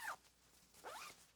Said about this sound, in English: This zipper was constantly getting caught.